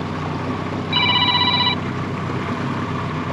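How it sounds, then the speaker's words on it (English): A mobile phone rings once at a creek-side camp while mud crab pots are being set, a bright electronic tone lasting under a second over a steady engine-like background drone. "Dan, the Harley man's ringing."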